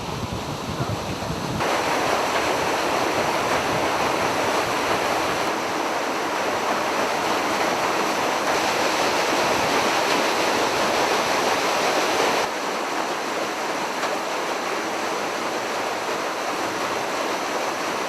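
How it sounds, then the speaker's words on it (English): Two waterfalls spill beside a stone wall at Lake Tahoe, heard from a boat. A dense, constant rushing roar of water runs throughout with wind buffeting mixed in, and no one speaks. "A stone wall behind it with these two waterfalls"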